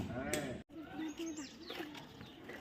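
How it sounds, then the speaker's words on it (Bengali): A close goat bleat near the start, followed by further bleats and calls from a crowded pen of sacrificial goats kept for Qurbani by the riverside, with a faint murmur of voices underneath. "এ তো অনেক ছাগল আছে গো এখানে।"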